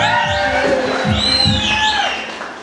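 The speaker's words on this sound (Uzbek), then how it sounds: "Marhamat davrimizga chiroyli qarsaklar bilan." Audience at a live music show cheering, whooping and clapping to welcome a rapper to the stage, a dense, loud crowd roar with shouts and whistles throughout.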